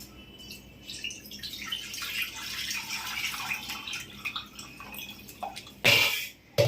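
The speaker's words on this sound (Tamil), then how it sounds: "இப்போ தண்ணியை வடிச்சிடலாம்" Water drains from one and a half cups of raw rice soaked for an hour, a faint trickle with scattered drips, ending in a couple of louder splashes. No one speaks.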